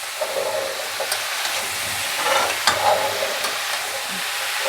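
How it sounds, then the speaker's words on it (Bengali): Ridge gourd tossed into a pan with spices sizzles and fries steadily, with occasional scrapes and clinks of stirring over a constant hissing background. "সব মশলাগুলো একসাথে ঝিঙের সঙ্গে ভাজা হবে"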